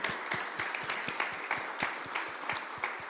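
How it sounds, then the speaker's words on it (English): A club audience at a Kiwanis meeting gives a short burst of applause, with brisk clapping and distinct individual claps in a small room. "Let's give a big round of applause for a great presentation today."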